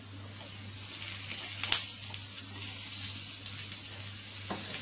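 Steady, gentle sizzling from chopped tomatoes frying in a pan for moussaka, with soft crackles and occasional louder pops over a constant low hum.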